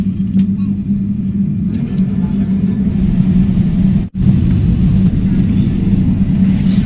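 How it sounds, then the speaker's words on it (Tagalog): Inside the cabin of an airliner about to take off, the engines roar as a loud, steady, low rumble that fills the whole stretch without a break. "nagre revolution na yung aeroplano, malapit na kami mag-take off."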